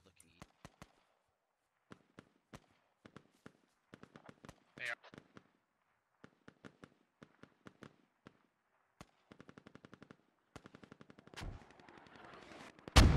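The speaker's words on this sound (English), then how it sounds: "More outbound mortars." Mortar and rifle fire in a Squad battle crack out as sharp, scattered shots and short bursts, mostly distant and dry, building into a dense rattle of automatic fire and a heavier blast at the end.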